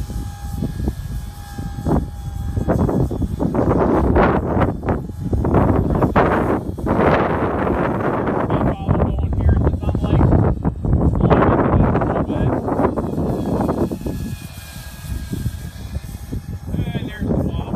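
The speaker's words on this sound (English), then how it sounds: "We got to lean the heli into the wind." Small Blade 180cfx RC helicopter hovering on a windy day with worn linkages: a continuous whirring rotor buzz, close and fairly loud, mixed with gusty wind rumble on the microphone.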